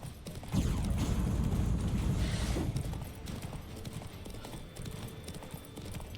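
Galloping horse hooves in The Witcher 3, a loud, fast clip-clop rhythm close by that settles into a softer, steady beat, with a brief whinny-like creak partway through.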